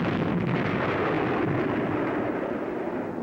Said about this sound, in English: the piratical pirates fired their warning shot